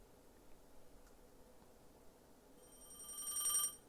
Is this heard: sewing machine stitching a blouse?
no